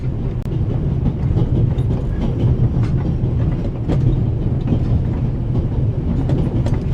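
Steady rattle and rumble of a train rolling along rails in the video game The Raven - Legacy of a Master Thief, a continuous loud clickety-clack with low wheel noise and no voices.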